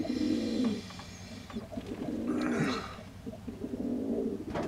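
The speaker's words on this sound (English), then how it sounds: "Then you've got the white dove and the it might be a grey or brown pigeon." A white dove and a grey or brown pigeon coo softly nearby in a few low, rolling phrases, with a faint chirp in the background and no talking.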